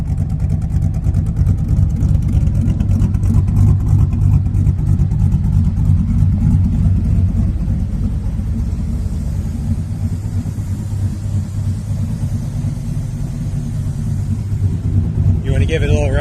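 A Chevrolet S10 pickup with a swapped LS V8 idles with a loud, steady low rumble, holding a deep throb throughout with a few rev swells, while voices talk over it nearby.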